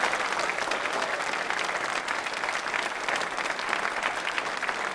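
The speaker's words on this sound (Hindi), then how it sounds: "बाबा साहब के सम्मान में जोरदार ताली बजाइए" An audience at an accounts officers' quiz programme claps loudly in honour of Babasaheb Ambedkar, producing dense, sustained applause that fills the whole stretch without a break.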